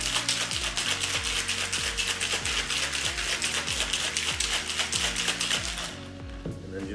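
Ice rattles in a cocktail shaker with quick, regular knocks, shaken briskly for several seconds before stopping.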